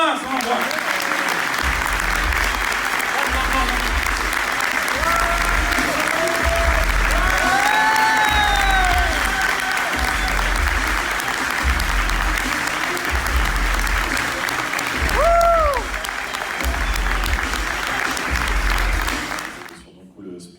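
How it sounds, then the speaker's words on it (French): Sustained, enthusiastic applause from a big crowd at a comic convention in Paris, with music and a pulsing beat underneath, fading out at the end. "un tonnerre d'applaudissements pour Roy Thomas."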